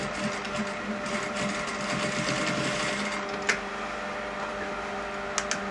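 A sewing machine runs steadily, stitching down the back pocket flap on a pair of men's trousers, with a continuous close mechanical whir and a couple of sharp clicks near the end.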